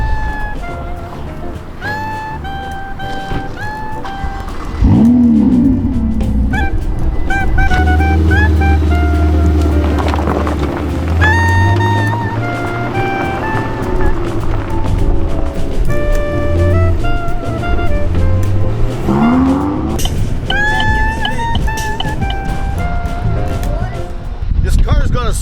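A Ferrari's engine drones steadily underneath as the car drives, with revs rising and falling at moments, while people keep talking over it throughout.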